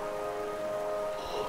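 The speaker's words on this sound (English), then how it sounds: "If you look down from here through the rain" Steady rain falls in the Hollow Knight game world, a continuous hiss of droplets held evenly throughout under a faint sustained tonal drone, with no talk over it.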